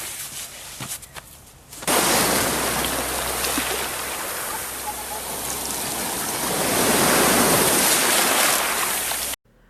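Ocean waves as a sound effect, a loud, continuous rushing surf roar that cuts in suddenly after a quieter opening, swells slightly toward the end, then stops abruptly.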